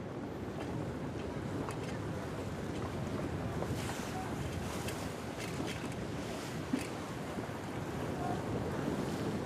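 Wind blows hard across the microphone aboard a traditional Frisian skûtsje sailing barge racing at Terherne. It makes a constant loud rumble and buffeting, with water washing and splashing against the hull throughout.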